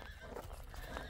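A spirited horse of a Russian breed from Abakan gives a faint, quiet neigh lasting about a second.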